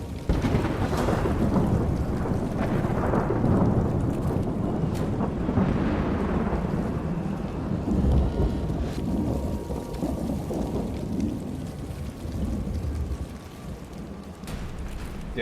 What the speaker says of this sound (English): Nothing like hunting the baddies in a storm,